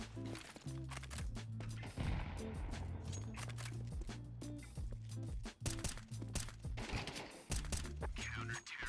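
Gunshots in Counter-Strike 2 on the de_nuke map, rapid cracks and automatic bursts coming in clusters over steady background game sound and music, fairly quiet overall with no speech.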